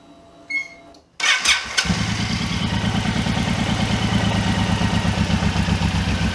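A Suzuki M109R (VZR1800) cruiser's big V-twin cranks and fires after a few brief clicks, then settles into a steady, loping idle close by.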